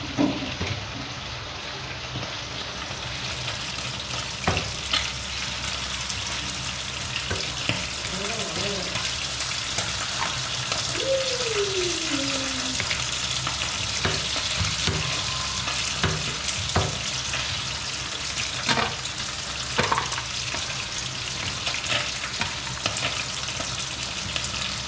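Vegetables for Filipino pakbet sautéing in a hot pan, a dense, continuous sizzle and crackle with intermittent scrapes and clinks of stirring, and brief faint voices in the background.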